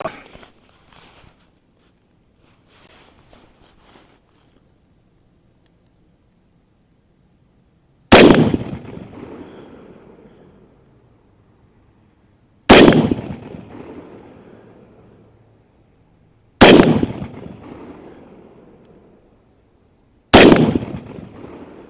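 Aero Precision M5 rifle in 7.62 NATO firing reloaded rounds outdoors: four loud, sharp single shots spaced a few seconds apart, each with a decaying echo tail, after quiet handling noises.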